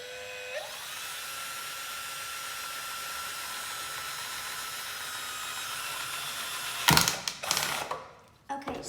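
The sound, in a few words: drilling a hole in a plastic cap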